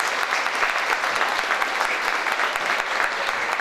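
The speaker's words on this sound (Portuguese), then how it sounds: "eu peço uma grande salva de palmas" Audience applause at a Portuguese community ceremony in São Paulo, a full, steady burst of many hands clapping at moderate loudness, with individual sharp claps popping through and no talk over it.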